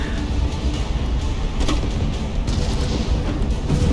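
Gunfire booms in the sewer section of the video game Resident Evil 3 Remake. Heavy shots land in a dense, loud cluster over a few seconds, with no talking.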